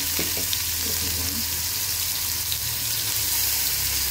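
Onion, ginger and garlic paste frying in hot mustard oil for a dry fish curry, a steady close sizzle with faint stirring scrapes throughout, no talking.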